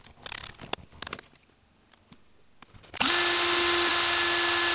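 A few faint clicks and handling noises, then an electric drill spinning wire held in its chuck whirs up suddenly with a loud, steady high whine.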